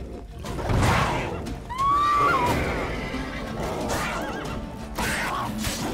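A horse in The Witcher 3: Blood and Wine gives a loud, rising-and-falling whinny in the game's combat audio, with hooves clopping and shouting voices around it.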